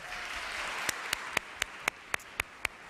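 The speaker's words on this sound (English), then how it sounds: "could we just get one more round of applause for our poet laureate?" Audience applause at a poetry recitation competition honoring the poet laureate, a steady wash of clapping with several sharp, louder individual claps standing out near the end.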